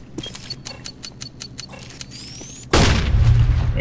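In CS:GO, a tactical awareness grenade goes off after a run of quick, evenly spaced metallic ticks and beeps, then bursts into a loud sustained roaring hiss.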